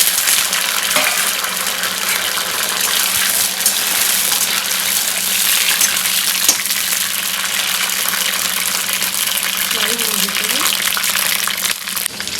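Pointed gourd (parwal) frying in hot oil, a loud, steady, close sizzle that crackles continuously for over ten seconds with faint background sounds and a low hum beneath.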